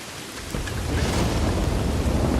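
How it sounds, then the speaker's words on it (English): Steady rain with rumbling thunder in the video game Red Dead Redemption II, a dense broadband downpour that swells in after half a second and keeps a constant, enveloping roar. "it's raining out"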